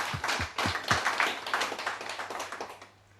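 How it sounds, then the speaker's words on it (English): A small audience gives a brief round of applause, a few distinct claps at first swelling into a dense burst of clapping that fades out near the end. "I'd like to give her a round of applause"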